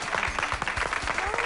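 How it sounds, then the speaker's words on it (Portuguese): Studio audience applause on a Portuguese television talk show, a faint, continuous patter of many hands clapping at a moderate distance. "Palmas para Mafalda Leitão."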